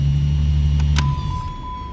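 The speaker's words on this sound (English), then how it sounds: "It's a long cranking" A 2014 Dodge with a bad fuel pump cranks at length without starting, its starter churning steadily and loudly for about a second before the tone changes and a thin whine carries on. The engine never catches.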